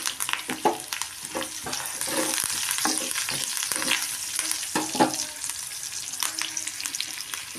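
Tempering spices, curry leaves and dried red chillies sizzle and crackle in hot oil, a busy spitting hiss with frequent sharp pops and the scrape of stirring.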